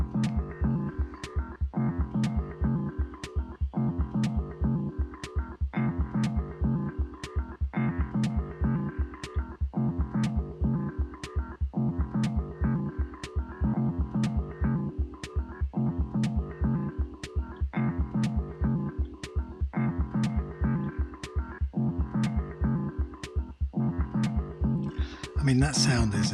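Transposed synth patch from an Ableton Live rack, shifted up by octaves, pulsing in a steady repeating pattern with sharp clicking hits at regular intervals, droning and throbbing throughout at an even level.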